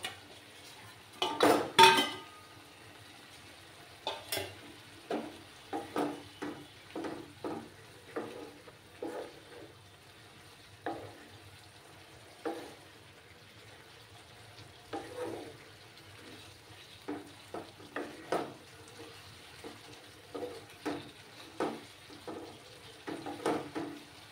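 Eggs are stirred into masala in a pan for an egg masala curry, with repeated clinks and scrapes of a spoon against the pan over a faint sizzle, quiet and close, with no talk.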